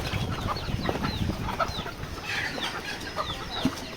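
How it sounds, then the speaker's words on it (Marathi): Flock of chickens clucking while feeding on azolla, a busy mix of short clucks and soft calls from several birds nearby, continuous over light background rustle. "बघा सर्व कोंबड्या एकदम पूर्ण खाण्यासाठी आलेल्या आहेत"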